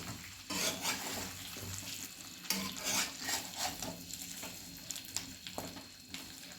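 Salted eggplant fries in oil over a low flame while a spoon stirs and turns it, making irregular scraping strokes against the pan over a soft, steady sizzle, close by.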